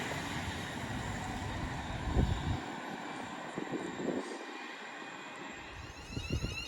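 A Class 350 train rumbling past Rugeley Trent Valley station with a steady hiss and low mechanical noise, a few heavier thumps and clatters over the passing, moderately distant.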